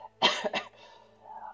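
Imitated coughing by a voice during a D&D tabletop session, a couple of close, harsh coughs followed by a faint trailing murmur.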